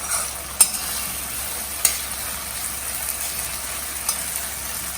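Yellow pumpkin squash (kaddu) sautéing in a pot for multigrain khichdi gives a steady low sizzle, with a few sharp spoon clicks against the pot.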